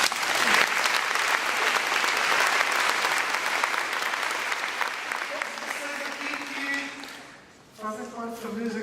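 A church congregation at a Sunday service applauds, broad sustained clapping that gradually thins toward the end, after which a voice begins speaking over the fading applause.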